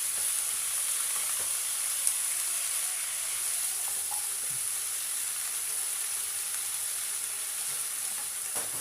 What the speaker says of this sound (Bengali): অল্প একটু হলুদ দিয়ে এগুলো আমি একটু চাপা দিয়ে দিয়ে ভালো করে ভেজে নেব